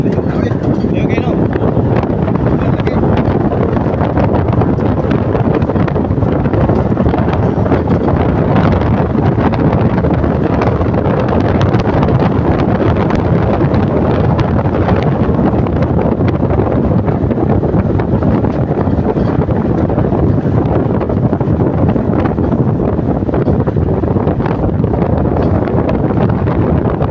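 Steady, roaring wind buffets the microphone throughout, a constant loud rumble with no breaks.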